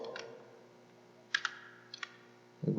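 A computer keyboard being tapped while entering a formula in an Excel spreadsheet. A few sparse, crisp key clicks stand out against quiet room tone, and a louder thump comes at the end.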